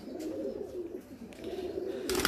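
Pigeons coo softly and repeatedly in a low, murmuring throb, fairly quiet and close, with a brief brighter rustle near the end and no voices over them.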